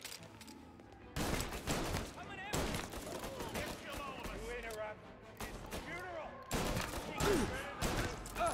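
Bursts of gunfire from a shootout in Mafia Definitive Edition, volleys of loud gunshots coming in clusters while voices shout over the battle and music and effects fill the gaps.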